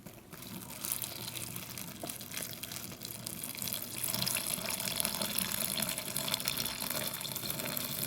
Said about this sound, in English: So we're going to add our 2 cups of water.